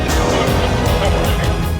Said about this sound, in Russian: Огромная машина Audi RS6, это не спорткар